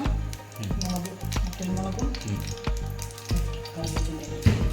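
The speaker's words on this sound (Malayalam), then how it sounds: "കടുക് പൊട്ടിക്കോട്ടെ" Mustard seeds pop and crackle in hot oil, sharp irregular snaps over a steady sizzle, close up, with a low hum behind.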